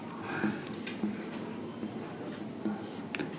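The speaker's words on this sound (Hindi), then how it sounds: "यहां पे लिखता हूं" Marker or chalk writing on a board during a chemistry lecture on hydrocarbons, soft scratchy strokes in short repeated bursts, heard close beneath a quiet classroom hum.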